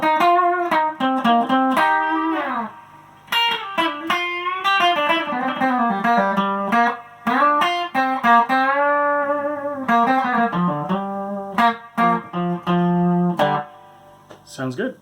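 A clean Yamaha RGX A2 electric guitar on the treble pickup plays bright, twangy melodic phrases with sustained notes and short pauses, close and loud.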